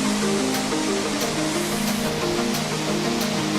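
A creek waterfall pours in a steady, loud, close roar of rushing water that stays constant throughout, with no voices.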